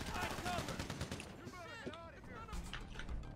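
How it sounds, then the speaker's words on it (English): Assault rifle fire in a multiplayer shooter game, rapid crackling bursts mixed with chaotic combat noise, with voices talking over the shooting. "I'm just gonna pour into it. I use my assault rifle."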